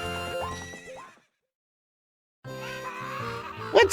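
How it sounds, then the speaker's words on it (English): A horse in The Legend of Zelda: Ocarina of Time gives a loud whinnying neigh with clip-clop hooves, then a silent gap before game sound returns, ending in a sharp burst. "What's up with that horse? Is that Epona?"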